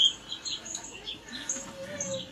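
Birds chirp in the morning in a field recording, thin high tweets and short calls scattered over a soft ambient hiss. They sound moderately near and fairly faint, with no speech.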